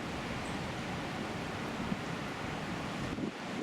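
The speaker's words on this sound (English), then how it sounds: "The wind's starting to pick up now." Steady wind rushing over a lake with water pushed against the bank, a continuous broadband roar with faint lapping, no voices.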